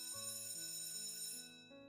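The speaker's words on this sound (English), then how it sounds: "The bell rings, coinciding with the door bursting open" A school bell in a video game rings out as a short sequence of clear electronic chime tones, stepping through several pitches for under two seconds and fading at the end, heard alone.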